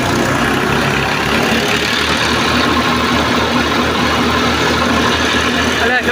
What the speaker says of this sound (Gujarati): તે ટ્રેક્ટર બંધ થઈ જાય છે